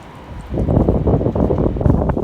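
Strong storm wind on a boat buffets the microphone in heavy rumbling gusts, starting quiet and then roaring continuously at close range.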